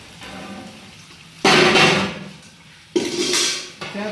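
Chicken being stirred and tossed into a big batch of Chinese fried rice in a large wok, with two loud bursts of scraping and sizzling clatter between quieter stretches.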